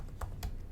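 Two quick, soft keystrokes tap on a computer keyboard, close but quiet over a low background hum.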